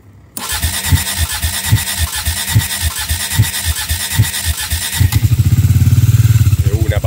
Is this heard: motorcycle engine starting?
yes